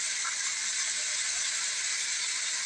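Onion and green chili hitting hot oil in a pan for mutton gravy, a loud, steady, close sizzle with no voices.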